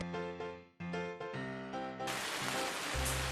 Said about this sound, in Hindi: बाहर तेज बारिश हो रही थी।